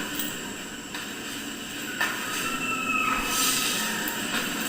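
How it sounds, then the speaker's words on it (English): High-pitched screeching echoes through an abandoned hospital, a thin squealing tone that rises and wavers over a steady rumbling background hiss, fairly loud and continuous with no talking. "All the while, you can hear the screeching in the background."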